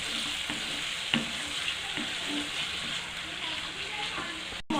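A spice paste fries and sizzles in oil for a fish roe curry, a steady hiss with soft scraping stirs and small clicks, close and moderately quiet.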